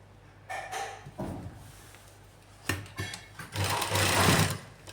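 A sewing machine stitches the hem of a lined salwar in short bursts, stopping and starting, with a longer run near the end, close by.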